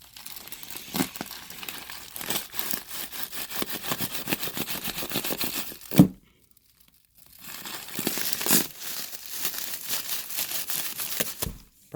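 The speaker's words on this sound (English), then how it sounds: "Maybe if I grab a knife and cut off some of this bubbly wrap." Knife cutting and tearing bubble wrap off a Dyson DC14 vacuum cleaner box: close crinkling and ripping in bursts, a sharp crackle, a brief quiet pause, then more crumpling.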